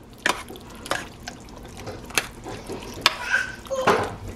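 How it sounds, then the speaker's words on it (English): Heavy whipping cream being stirred into a crockpot of a fall stew, with soft scattered clinks and wet sloshes of a spoon against the pot, quiet and intermittent. "I just added like half of a cup of the heavy whipping cream, and I'm going to give it a good stir."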